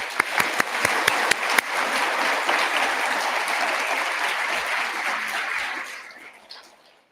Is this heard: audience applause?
yes